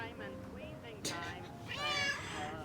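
A cat meows indoors, a couple of short, clear cries close by, the second longer and more drawn out, with a person speaking softly around them.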